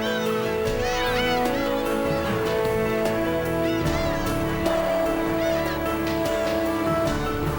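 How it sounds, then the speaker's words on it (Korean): Black-tailed gulls call on Dokdo island, a dense, loud colony chorus of overlapping squawking and mewing cries that runs throughout with no talk. "이 땅에 둥지를 틀고 치열하게 살아가는 괭이갈매기와 또 다른 새들."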